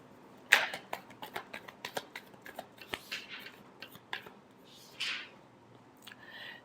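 Tarot cards being shuffled by hand during a reading, a run of crisp quiet snaps and riffling flicks, with a few softer rustles near the end.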